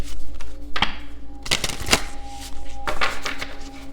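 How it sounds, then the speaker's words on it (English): A deck of tarot cards being shuffled, giving bursts of riffling, sliding card noise at a moderate level over a steady low background hum. "It's one of the best for shuffling. It's so easy. Cards just like slide right out."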